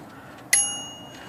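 The carriage bell of a Royal Futura 800 manual typewriter gives a single bright ding that rings on and fades, clear and close in a quiet room.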